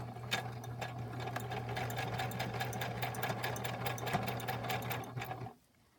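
A sewing machine stitches a lace pocket onto a fabric journal cover, running steadily and loudly with a fast regular needle clatter and motor hum for about five seconds before stopping abruptly into quiet.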